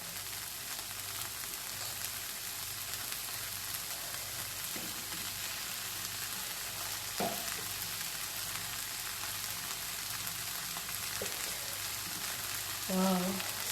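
Cooked gluten-free, wheat-free spaghetti noodles go into a meatless stir fry in a pot, giving a steady, moderately loud frying sizzle throughout, with a few soft clanks of stirring utensils near the end.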